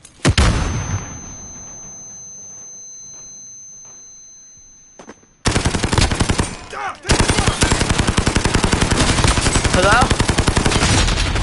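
Rapid automatic gunfire in Call of Duty Modern Warfare, loud and sustained in dense bursts after a quieter stretch with a single spoken word and distant shots.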